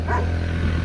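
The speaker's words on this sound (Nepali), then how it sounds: "ओए कुकुर आयो" A dog barks once or twice at night on a local road, a short near yelp over a low steady hum.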